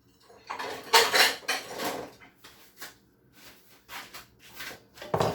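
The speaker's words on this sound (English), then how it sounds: "I'm gonna dish it out in a little dish and show you." Isi ewu, a Nigerian goat-head dish, being spooned out into a small dish: a series of close clinks and scrapes of spoon against the dish in uneven bursts with short pauses between.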